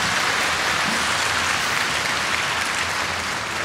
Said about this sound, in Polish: Więc brawa dla Jurka.